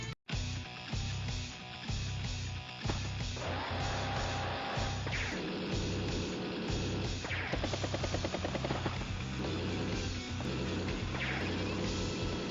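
A battlecopter unit in Advance Wars: Days of Ruin gives off busy, continuous game audio layered over steady background music, loud and unbroken for the whole stretch with no talking.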